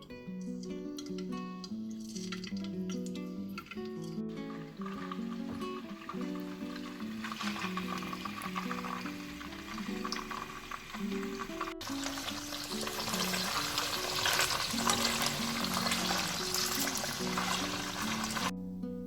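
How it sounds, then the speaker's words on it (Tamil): Tofu pieces fry in hot oil in a pan, a steady crackling sizzle that grows denser and louder partway through, heard under faint background music. "இங்கே ஒரு பேனில் எண்ணெய் சூடாக இருக்குது. இப்போ அந்த தோஃபுலாம் அதில் போட்டுக்கலாம்."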